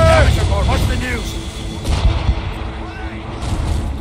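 Ship cannons firing in the naval game Assassin's Creed Rogue, deep booms rolling out amid battle noise while shouted voices ring over the action.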